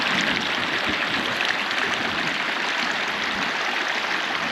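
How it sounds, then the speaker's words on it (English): Flowing water of Geneva Creek in a mountain valley gives a steady, loud, close rushing sound with no breaks and no voices. "So this is Geneva Creek,"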